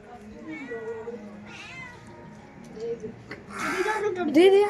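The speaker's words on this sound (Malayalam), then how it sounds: "നമ്മളിവിടെ പൂച്ചകൾ വന്നിട്ടുണ്ട്" Several cats meow repeatedly nearby, the cries growing louder toward the end, while a person talks over them.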